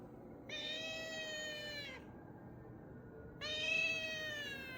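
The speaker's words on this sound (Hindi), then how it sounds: "बिल्ली आ गई है विंडो पे।" A cat meowing at a window before dawn gives two long, loud, drawn-out meows with a pause between them, close by over quiet room noise, with no talking.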